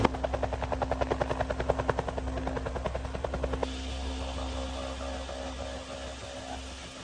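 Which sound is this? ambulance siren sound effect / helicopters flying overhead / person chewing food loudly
helicopters flying overhead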